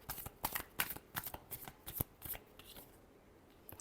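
Tarot cards being shuffled up close, a quick series of crisp riffling flutters and taps that slow and fade near the end.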